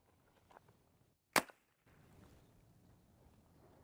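A suppressed Glock pistol fires once with its slide locked, giving a single short, sharp crack that stands alone between quiet stretches.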